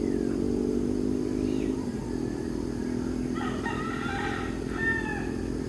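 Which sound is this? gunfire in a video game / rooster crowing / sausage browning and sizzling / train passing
rooster crowing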